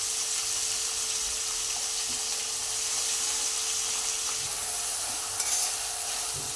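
Tomatoes fry in oil in a pan with a steady, close, even sizzling hiss that runs throughout with little change in level.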